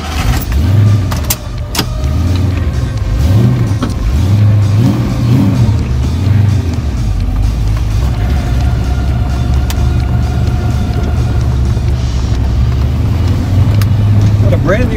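Old silver coupe with a B303 engine and a brand new clutch, driving on the road with a loud continuous engine drone and gear changes, close to the cabin, with talking over it.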